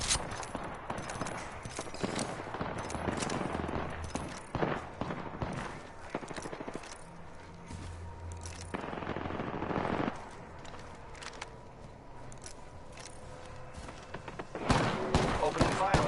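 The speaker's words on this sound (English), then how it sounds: "One squad is firing at us." Apex Legends firefight with bursts of automatic gunfire and scattered shots, some close and some distant, under game effects and background noise, with a louder cluster of shots near the end.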